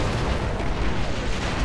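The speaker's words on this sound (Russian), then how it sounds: "Воу! Хорошо бабахнуло." An explosion in the video game Star Wars Republic Commando gives a loud, dense roar of rumbling noise that holds steady for nearly two seconds with no talk over it.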